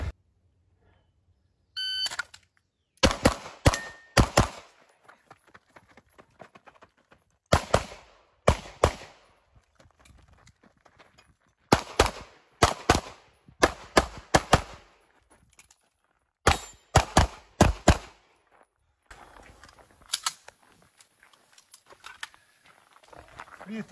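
Live gunfire rings out during pistol drills for entering shooting positions, in five or six loud clusters of rapid shots separated by pauses, with faint shuffling between them.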